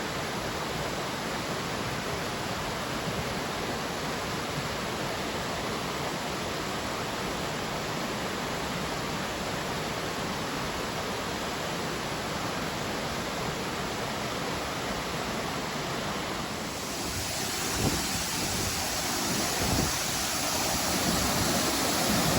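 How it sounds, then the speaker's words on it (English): Fall Creek Falls roars on a hot day after the Archie Creek Fire, a steady, dense rush of falling water that fills the whole stretch, its texture shifting slightly toward the end. "I can feel the breeze and the mist coming from the falls."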